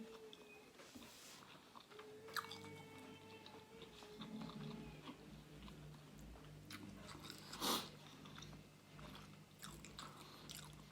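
Carrot salad with salmon being chewed and eaten up close, with soft crunchy bites and wet mastication sounds repeating steadily and one louder crunch partway through, with no talking.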